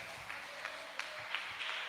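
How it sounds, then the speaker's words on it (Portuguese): A church congregation claps to welcome a speaker, moderately faint clapping from many hands with a few sharper individual claps standing out. "vamos recebê-lo com as palmas, bem alegre para Jesus"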